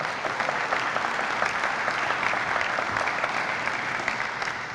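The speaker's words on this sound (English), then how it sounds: "Penrose Hollins deserves a round of applause. And yes, you can give it now" Audience applause at a county government announcement of an affordable housing initiative, a sustained, even roar of many hands clapping throughout, without talk over it.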